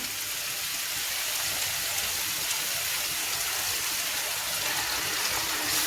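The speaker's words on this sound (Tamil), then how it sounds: "நான் இதில் கொஞ்சமாக தண்ணி ஆட் பண்ணிக்கிறேன்" Water pours steadily into a hot pan of cooking chicken chukka, a continuous rushing hiss with faint bubbling and no voices.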